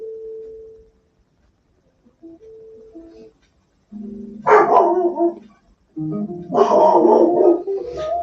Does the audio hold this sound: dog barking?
yes